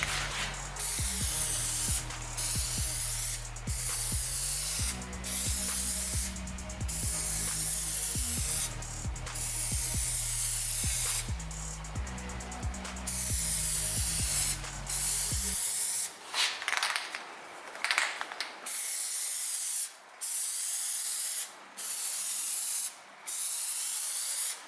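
A spray can applies Plasti Dip coating to a motorcycle, producing long, loud, continuous hissing blasts up close, then shorter broken bursts with gaps between them.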